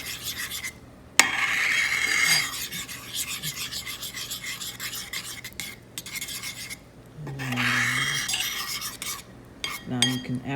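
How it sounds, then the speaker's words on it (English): Chia seeds being stirred into liquid in a container, a gritty scraping and rubbing of the utensil that goes on steadily, pauses briefly, then resumes in bursts, close and fairly loud with no talking. "after you do the stir, and then you stir again to make sure there's no clumps"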